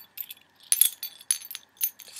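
A bunch of house keys jingles and clinks in short bright bursts, close and fairly quiet, with no talking.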